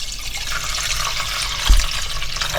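Tea steeped from red bud flowers is poured from a strainer back into a pot for jelly, a steady close splashing trickle with one soft knock partway through.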